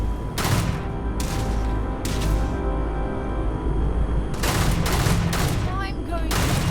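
Rapid bursts of video game gunfire crackle in several loud volleys over a steady background bed, with short pauses between the bursts.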